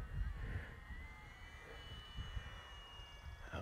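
An FMS PC-21 Pilatus 1100mm RC model plane in flight, its electric motor giving a steady whine that shifts slightly in pitch, heard from a distance outdoors over some wind noise.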